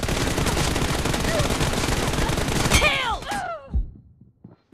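Rapid automatic gunfire in the battle royale game BGMI rattles continuously for about three seconds, then breaks into a few scattered, echoing shots before falling quiet.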